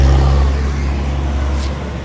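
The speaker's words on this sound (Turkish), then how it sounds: "Şehrin ortasından traktör geçiyor ya" A tractor passes through a city street in Konya, a heavy, steady low engine rumble that stays loud and close and then eases slightly.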